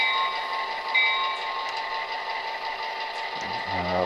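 A Bachmann GP9 HO-scale model locomotive with DCC sound rings its bell, a steady electronic clanging with a whine underneath, heard close and alone.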